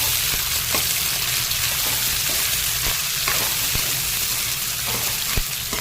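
Green chillies fry in a pan for a vegetable curry of brinjal, tomato and drumsticks, giving a steady dense sizzle throughout with faint scraping clicks from stirring now and then; no voices.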